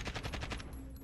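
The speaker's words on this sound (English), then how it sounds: "I totally just shot at someone that wasn't existent." Rapid automatic gunfire in Modern Warfare on the snowy Winter Docks map: about six evenly spaced, loud close shots in a quick burst, then a brief fading tail.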